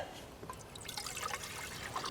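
Water is poured into a camp stove pot for a backcountry Mountain House breakfast skillet, a steady soft trickling and splashing, close and continuous, with no talking.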